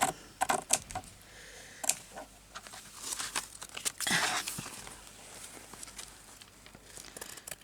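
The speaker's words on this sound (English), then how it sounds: "I'll cut it off even." A small bag is cut apart by hand at close range, giving crisp crinkling, rustling and tearing snips in uneven bursts, with a longer rough scraping stretch midway and no speech.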